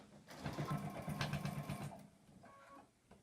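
A sewing machine stitches fabric for a double pocket in a quick, fairly faint whirring burst, pausing briefly before a shorter second run of stitches.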